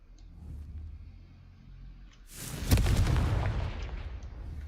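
After a quiet stretch of low ambience, the Confringo blasting curse in Hogwarts Legacy sets off a loud, booming explosion with a sharp crack, followed by a rumbling roar that fades slowly.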